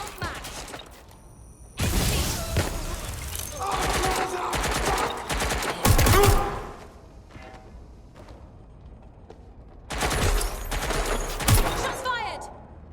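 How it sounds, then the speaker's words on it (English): Bursts of automatic gunfire from a Watch Dogs Legion shootout, rattling loudly in two main stretches with a quieter lull between, mechanical clicks and scattered voices mixed in. "Shots fired!"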